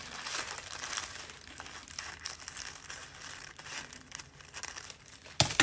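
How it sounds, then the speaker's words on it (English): Paper crinkled up by hand at close range, a continuous soft crackling and rustling that swells and fades, ending in a couple of sharper, louder crunches. "Crinkle it up a little bit."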